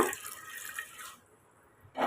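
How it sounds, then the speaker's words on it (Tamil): A short splash of water pouring into a pressure cooker over green gram, running briefly then stopping, with a fresh gush at the very end. "பயிர் முங்குற அளவுக்கு தண்ணி சேர்த்துக்கோங்க"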